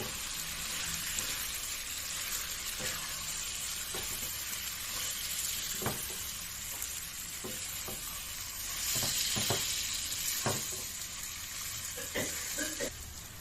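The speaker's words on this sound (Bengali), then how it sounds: "তোমরা দেখতে পাচ্ছ চিংড়ি মাছগুলো দিয়ে আমি ভালোভাবে কষিয়ে নিয়েছি একদম শুকনো করে কষিয়ে নিতে হবে" Prawns being sautéed dry in a pan for a prawn ghonto with potol, potato and pumpkin: a constant close sizzle with scattered sharp spatula clinks and scrapes, and no voices.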